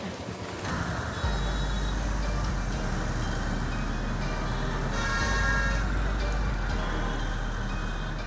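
Busy Indian street traffic rumbles steadily throughout, a dense low-frequency wash of engines and passing vehicles, fairly loud and continuous with no clear voices on top.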